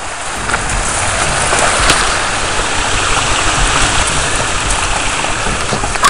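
Fresh spring water pouring from a Forest Service pipe near Ojai, a loud continuous close splashing rush with no pauses.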